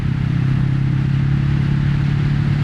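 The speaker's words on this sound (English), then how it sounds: "It's making me rev the engine more than usual as well." A Kawasaki Vulcan S motorcycle engine runs loud and close with a deep, steady throb while riding, holding an even drone rather than climbing in pitch.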